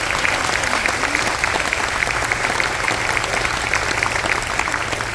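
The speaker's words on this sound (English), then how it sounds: "So let's give a round of applause for that." An audience gives a round of applause at a spring steel band concert, with loud, continuous, even clapping throughout and no talk.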